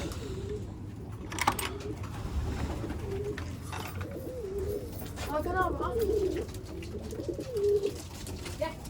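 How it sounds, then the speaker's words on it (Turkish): Rooftop pigeons coo repeatedly in soft, throaty phrases, close by, over a steady low background murmur. "Bakalım Utku'nun kuşun durumu nedir?"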